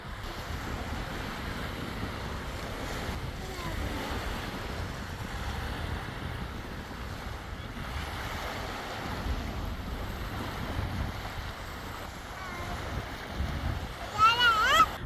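Sea waves wash at a beach at night under windy, dusty conditions, a broad rolling surf roar with wind buffeting the microphone, steady and moderately loud to the end.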